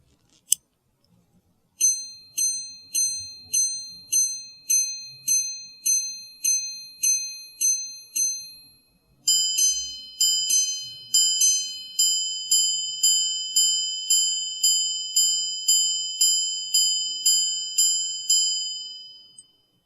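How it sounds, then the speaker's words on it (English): A Patek Philippe 5178G white gold minute repeater chimes clear, bright strikes: a run of evenly spaced single tones, a short pause, then quick double-tone pairs followed by more single tones, ringing crisply in near silence. "the white gold minute repeater will sound louder while the platinum minute repeater will sound purer"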